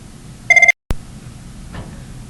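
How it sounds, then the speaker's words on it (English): A telephone rings once in a short electronic burst of a few quick pulses, fairly loud and close, then cuts to brief silence and a sharp click against a quiet room background. "I'm going to pause this so I can answer the phone."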